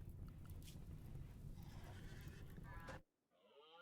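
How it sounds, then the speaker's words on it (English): A horse in the RimWorld video game, hurt in an attack, whinnies in short strained bursts near the end, following a stretch of loud busy game noise that cuts off abruptly. "That horse has been attacked by something."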